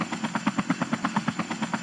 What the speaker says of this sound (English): Use the helicopter to lift everyone to safety.